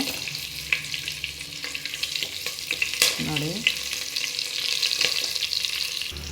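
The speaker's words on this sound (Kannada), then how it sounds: "ನೋಡಿ ಫ್ರೆಂಡ್ಸ್, ಇದು ಈ ಥರ ಫ್ರೈ ಮಾಡ್ಕೋಬೇಕು. ಲೋ ಫ್ಲೇಮಲ್ಲೇ ಮಾಡ್ಕೊಳ್ಳಿ." Spices for jeera rice fry on a low flame while being stirred, giving a steady close sizzle broken by scattered scrapes and clicks of the spoon against the pan, with no voices.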